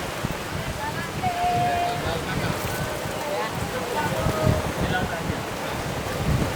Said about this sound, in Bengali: আর এই দেখুন দেখুন প্রচুর বৃষ্টি হচ্ছে।